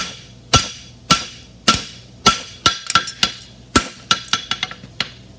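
Hammer blows flattening metal, struck close and loud in a steady series that quickens into rapid clustered taps toward the end, each a sharp ringing impact.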